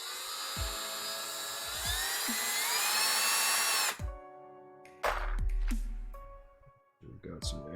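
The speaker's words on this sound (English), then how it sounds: "Hope the drill is not too obnoxious for anyone that's watching." A high-pitched drill retooling mechanical keyboard switch bases whines steadily for several seconds, then stops and restarts in short bursts, with brief clatters in between.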